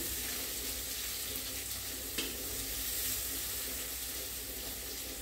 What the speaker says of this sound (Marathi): त्यानंतर कांदा घेते, जरासा परतून, पूर्ण परतून घ्यायचं नाहीये